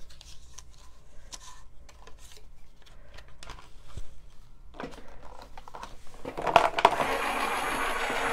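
A card-making die-cut machine runs paper through with a steady mechanical whir and grind that starts low and builds louder toward the end, with a couple of sharp clicks.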